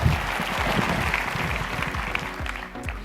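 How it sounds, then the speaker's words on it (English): Audience applause following a motivational speaker's introduction at an Australian speaking event, a dense sustained wash of clapping with a faint voice or two underneath, fairly steady throughout. "Let's give him a round of applause"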